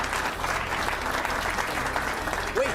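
A studio audience claps as a dessert is finished with orange sauce, steady dense applause lasting the whole moment, with a faint voice underneath near the end.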